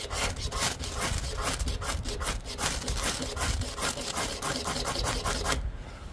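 A Victorinox pocket knife saw cuts steadily through wood, its back-and-forth rasping strokes repeating in a quick, even rhythm, close up and continuous.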